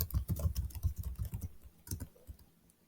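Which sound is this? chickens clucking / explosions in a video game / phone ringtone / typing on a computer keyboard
typing on a computer keyboard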